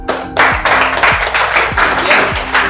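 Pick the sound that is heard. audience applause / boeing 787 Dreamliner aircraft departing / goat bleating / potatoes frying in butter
audience applause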